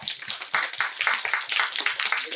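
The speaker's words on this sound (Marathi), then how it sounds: "तुमच्यासाठी तुम्ही एकदा टाळ्या वाजवा." An audience claps together in a hall, a fairly close patter of many hands that keeps up steadily without pause.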